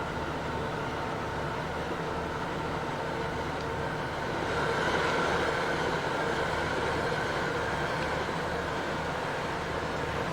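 A train rolls past in the Transport Fever 2 simulation game, giving a steady mechanical rumble with wheel-on-rail clatter that swells slightly midway and holds evenly for about ten seconds without speech.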